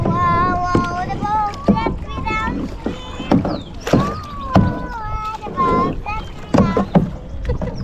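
Kayak paddles dipping and splashing on the water at Emerald Bay, Lake Tahoe, a string of sharp splashes mixed with constant rippling, close up while children and adults talk and call out throughout.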